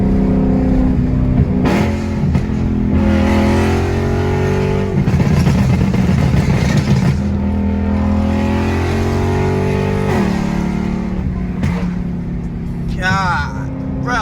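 A BMW E9X M3 with a straight-piped exhaust and flame tune revs hard and loud, engine note rising and falling in long sustained pulls with sharp crackles toward the end, while people talk over it.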